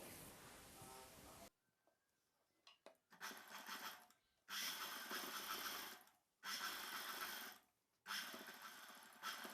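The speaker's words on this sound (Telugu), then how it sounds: "ఇలా స్టిచ్ చేసుకున్న తర్వాత ఈ ఎక్స్ట్రా ఖర్చుకు చివరన మరొక కుట్టు వేసుకోవాలి." A sewing machine stitches a net blouse, running in several loud bursts of steady whirring separated by short pauses, with a quieter stretch of handling early on.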